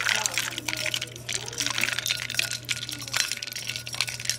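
Jello mix poured into hot water in a home kitchen, a soft close trickling and splashing with light clinks of a glass bowl, running steadily for several seconds under a constant low hum.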